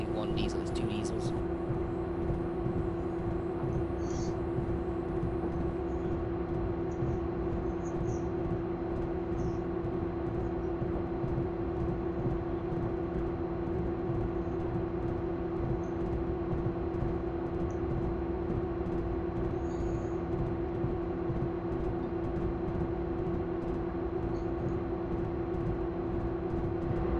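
Twin diesel locomotives in the Railworks train simulator game idle with a constant low engine drone and a strong steady tonal hum, unchanging throughout, with someone talking over it at times.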